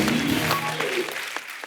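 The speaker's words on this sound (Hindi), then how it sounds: "जोरदार तालियां होनी चाहिए हमारे दोनों मेहमानों के लिए" Studio audience applauding two guests, dance choreographers Remo and Ganesh Acharya, on a TV comedy show; a dense, steady burst of clapping that holds for under two seconds and then starts to thin.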